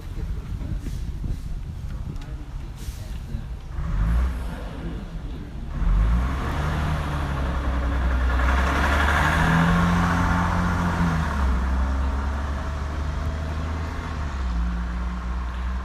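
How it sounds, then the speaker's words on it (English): A bus passes by during an outdoor memorial ceremony, its low engine rumble rising from about four seconds to a loud, close peak, then holding steady with some wind noise. "Just wait for the bus to pass"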